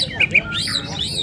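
A white-rumped shama sings at a songbird contest in Singkil, giving a few short, bright chirps close by over steady crowd murmur and background talk.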